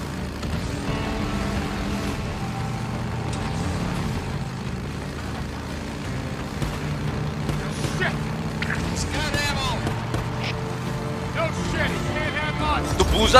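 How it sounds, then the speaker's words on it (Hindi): Motorcycle engine with nitrous fitted, ridden in the Days Gone zombie video game, a steady engine drone with rising revs, heard close and continuous under game voices and music. "बाइक चलाने दे दी मेरे को, वाह।"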